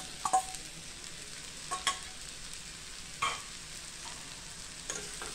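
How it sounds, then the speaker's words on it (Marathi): Dried Bombay duck fish, fried crisp in oil, goes into a pan of roasted masala, giving a soft steady sizzle with a few short scraping stirs and clacks of a spoon. No one speaks. "आता हे जे बोंबील आपण तेलामध्ये चांगले खरपूस भाजून घेतले होते ते घालते मी"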